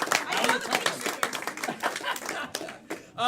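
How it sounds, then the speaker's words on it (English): At a game-show event, an audience claps for a contestant's effort on a puzzle round. The clapping is full and continuous, with a voice cutting in at the very end. "Clap for the effort, though, everyone."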